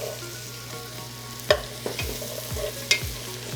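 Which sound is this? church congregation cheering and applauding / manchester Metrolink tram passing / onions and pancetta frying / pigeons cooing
onions and pancetta frying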